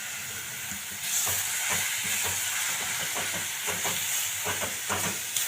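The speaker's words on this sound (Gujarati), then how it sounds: "જો આ બરાબર આપણે એને હલાવીશું।" Methi palak kadhi, a fenugreek and spinach yogurt curry, is stirred in a pot over low gas, giving steady soft scraping strokes over a bubbling, hissing simmer with no talking.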